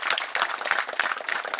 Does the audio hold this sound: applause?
yes